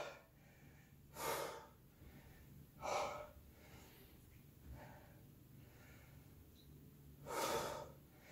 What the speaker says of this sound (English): Inhaling down, big exhale as we go up.